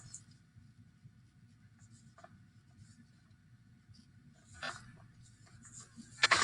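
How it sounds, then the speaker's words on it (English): A pencil drawn along a ruler across a sheet of paper, giving a faint, steady scratching with a short, louder stroke near the end. "So let's take our ruler and draw our lines."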